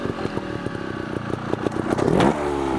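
A trials motorcycle revs and blips in short bursts, climbing to a louder, sustained rev near the end. Clattering and scraping of the bike on rough terrain mixes in with the engine during the climb.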